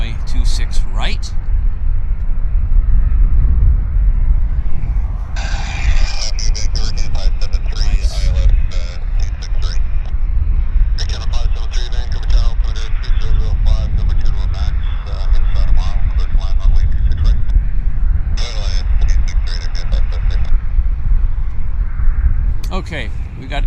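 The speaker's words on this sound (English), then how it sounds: "we got a couple Boeings taxiing out" A Boeing jet and an Airbus jet taxi at Vancouver airport, with a deep engine rumble running throughout and bursts of higher whine. Someone talks over the engine noise.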